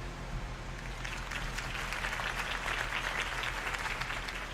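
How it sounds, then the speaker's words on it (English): Crowd applause after a campaign speech in the Batman Telltale video game, a steady wash of many hands clapping that holds at an even level throughout, with no talk over it. "If only Mr. Wayne, my campaign's largest backer, could have heard that applause"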